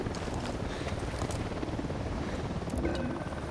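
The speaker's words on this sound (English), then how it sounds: "Chopper inbound." Helicopter approaching in the video game Ghost Recon Wildlands, a continuous rapid rotor thumping with broad engine rumble, fairly steady and moderately loud throughout.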